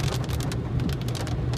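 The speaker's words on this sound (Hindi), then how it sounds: "आप आवाज सुने बारिश की" Heavy storm rain pours down during a drive, a dense, steady hiss of drops drumming on the car with a low road rumble underneath.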